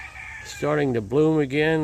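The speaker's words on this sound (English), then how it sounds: "We hear the roosters in the background crowing" A rooster crows loudly and close by, a long rising and falling call with a brief break, following a few quiet spoken words, in an outdoor bonsai garden.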